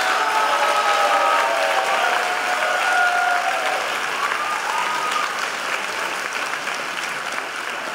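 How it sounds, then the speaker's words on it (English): An audience at the Zucker School of Medicine White Coat Ceremony applauds the entering medical class of 2017: dense, sustained clapping that fills the room, with a few high cheers or whistles early on, easing off slightly toward the end. "Please let's join and applaud the entering class of 2017."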